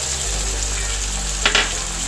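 Battered gobi manchurian, fried cauliflower, sizzling steadily in a pan as soy sauce, vinegar and tomato sauce go in, with a brief louder hiss of liquid hitting the hot surface midway.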